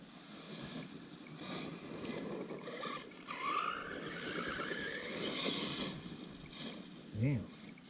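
An Arrma Typhon 6S RC car with upgrades runs on a BMX track, its electric motor whining and surging in bursts at middle distance, with wind and occasional voices in the background.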